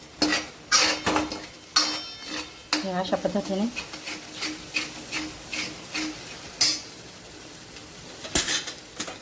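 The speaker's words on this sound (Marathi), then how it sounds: "इथे बघू शकता परतून घ्यायचं आहे" A ground paste of onion, coconut and poppy seeds is stirred and sautéed in hot tempering oil, giving a soft sizzle with repeated scraping and clinks of a spoon against the pan, and someone speaks briefly.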